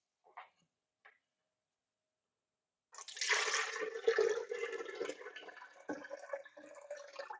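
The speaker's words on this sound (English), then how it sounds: "Yep, that's already pouring everywhere." Cooled kale wash being poured out for vodka making, a sudden gushing splash of liquid that runs on for several seconds and then trickles and spatters, preceded by a couple of faint knocks.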